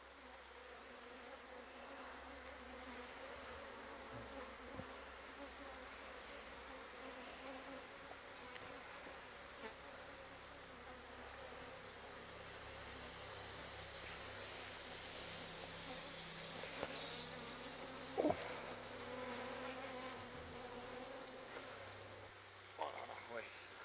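Honeybees returning to their hive with honey and pollen hum in a dense, steady buzz that fills the whole stretch, close and continuous, with a few louder passes of individual bees near the end.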